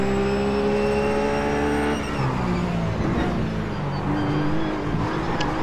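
A RUF race car at Daytona in the iRacing sim spins out: a steady high engine whine drops after about two seconds into rough, noisy churning as the car slides, with the engine tone picking up again near the end.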